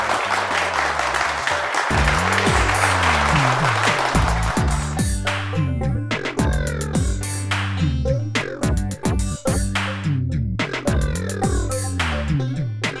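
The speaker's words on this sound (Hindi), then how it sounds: "जल्दी जल्दी ताली बाजबो" Contestants on an Odia reality show game clap rapidly in a dense burst at the start. Loud music with a strong beat then takes over and carries through the rest.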